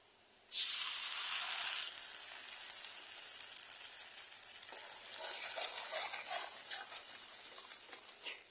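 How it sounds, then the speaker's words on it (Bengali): Tomato paste hits frying onions in a hot pan and bursts into a loud sizzle that starts suddenly, holds as a bright steady hiss with crackles, then fades slightly near the end. "পেঁয়াজটা হয়ে গেছে, এখন এখানে দিয়ে দেবো টমেটো বাটাটা"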